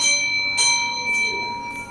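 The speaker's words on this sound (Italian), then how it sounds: "Un suono di campana e poi sentiamo l'assessore." A single bell rings with a bright, sustained metallic tone, struck again with softer follow-up strokes as it fades, heard alone and fairly faint.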